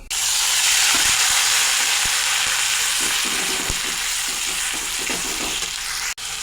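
Ground spice paste hits hot oil already holding bay leaves and whole cumin, giving a loud, steady sizzle and hiss broken by faint stirring clicks and a brief cut near the end.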